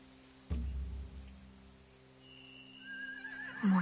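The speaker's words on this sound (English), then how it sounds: "They have horses." A horse whinnies in the Walking Dead video game, a loud close neigh breaking in after a moment of quiet, with a low droning game soundtrack humming underneath and a second shrill whinny rising near the end.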